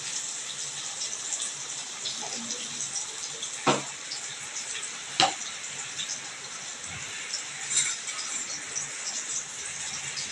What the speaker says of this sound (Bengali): দেখো আলুটা আমার প্রায় ফ্রাই হয়ে এসছে